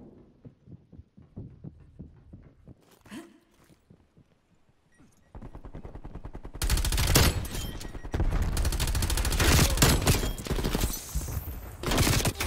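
Gunfire from an LC10 submachine gun in Black Ops Cold War, with scattered shots early on and then sustained loud automatic bursts over busy game noise in the second half.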